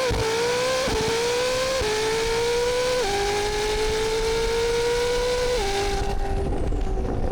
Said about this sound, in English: let's do one more launch in auto